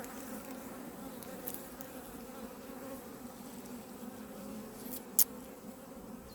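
A honey bee swarm in a hive hums with a continuous, close buzzing drone of many insects, fairly steady with a few louder passes and one brief sharp click near the end.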